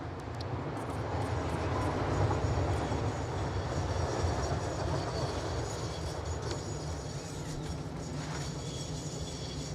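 A self-driving train rolling along rails in the factory-building game Satisfactory, a continuous loud rumble with low drone and faint rhythmic wheel clatter, steady throughout with no talking.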